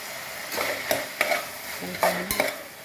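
Tomato pieces frying in a pan for a spicy potato pitla curry: a steady close sizzle broken by several sharp spatula scrapes and taps against the pan.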